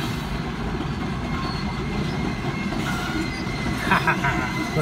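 A Maryland Midland freight train led by SD40-2 and GP38 locomotives rumbles past up close, a loud continuous roar of cars and wheels with faint squeals near the end.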